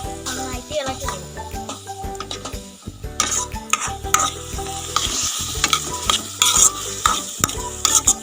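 A salted pomegranate pickle mixture cooks in a pan while it is stirred vigorously, with loud continuous scraping and frying hiss, clattering spoon strokes, and faint voices and a tonal background sound underneath.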